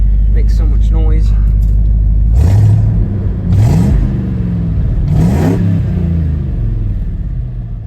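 A 1990 Ford F-150 engine idles with a low drone, then revs up three times in quick swells, with a noisy transmission whine, while someone talks over it.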